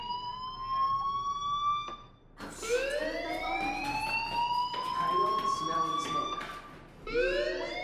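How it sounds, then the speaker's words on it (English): A fire alarm in the video game Life is Strange wails loudly in repeated rising sweeps, cutting out briefly before starting again and continuing steadily to the end. "Hey, do you hear that fire alarm?"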